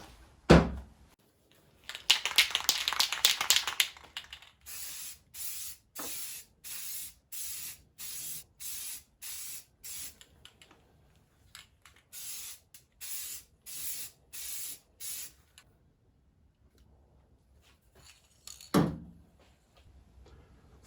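Restored 1936 Chevy coupe wheels being spray painted with a light first coat: a long hissing burst, then a steady run of short regular spray bursts with pauses, and a thunk near the end.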